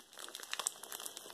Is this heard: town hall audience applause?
no